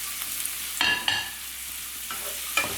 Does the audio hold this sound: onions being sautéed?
yes